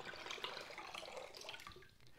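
Water runs from a hose into a bucket in a siphon setup, a steady splashing trickle that stays close and fairly quiet, thinning out toward the end.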